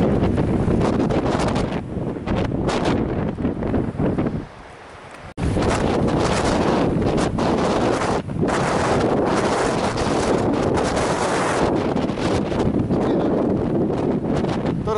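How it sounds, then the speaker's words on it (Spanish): Strong, gusting Patagonian wind at Torres del Paine roars and buffets the microphone almost continuously, with a brief lull partway through before the blast returns full force. "Va dando vuelta por todos lados el viento. Y muy fuerte."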